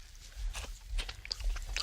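Crunching and chewing of a cooked centipede eaten in the woods, a series of close, crisp bites and mouth sounds with no talk.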